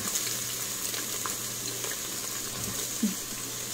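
Onions hit hot oil for an Instant Pot keema, giving a steady close hiss of frying that holds evenly throughout, with a brief stir or clink near the end.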